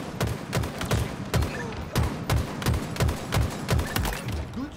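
Rapid bursts of gunfire in the video game Halo Infinite crack out in a steady, repeating rhythm, loud and dense throughout with heavy low thumps beneath each shot.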